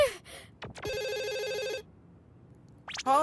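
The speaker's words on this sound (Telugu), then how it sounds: "ఫోన్ వస్తోంది." A telephone in a Doraemon cartoon rings in one sustained electronic trill lasting about a second, clear and loud, framed by short cartoon voice sounds before and after.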